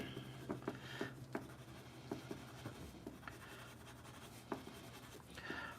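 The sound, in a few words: colored pencil drawing on paper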